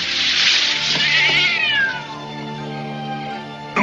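Cat meowing up close, one long drawn-out, wavering meow that slides downward in pitch and fades, heard alone without talk.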